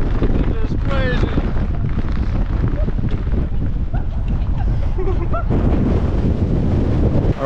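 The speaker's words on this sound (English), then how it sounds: "It was very windy up there, as you can see." Strong wind on a night hike in El Chaltén buffets the microphone in a loud, continuous roar, with faint voices and scattered higher sounds half-buried beneath the gusts.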